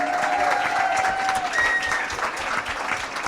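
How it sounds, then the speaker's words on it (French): A studio audience on a French live show applauds a guest, steady broadband clapping filling the whole stretch at close range, with a few cheers and whistle-like tones rising above it early on. "Mesdames et messieurs, le seul et l'unique John Boucher, on l'applaudit"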